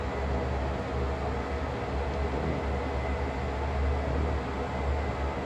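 A CSX heavy haul freight train runs in Train Sim World on an ice-and-snow route, giving a steady, continuous low rumble with a broad wash of noise above it. The rumble stays even throughout, with no voices.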